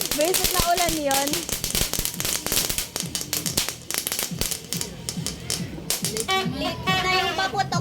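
New Year firecrackers bursting outdoors in sharp, rapid crackling volleys that come in dense bursts, with people talking and exclaiming over the noise and a siren-like tone rising and falling in places.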